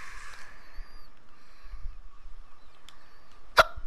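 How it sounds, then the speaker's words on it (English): One sharp, close hiccup bursts out near the end, preceded by quiet background hum and faint tonal game sounds. "Oh my gosh, hiccups are so annoying"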